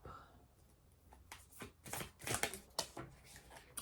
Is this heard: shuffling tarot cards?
yes